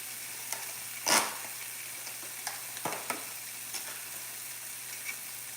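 Onions and peppers frying in a pan, a continuous close sizzle broken by a few stirring scrapes and clicks, with one louder burst early on.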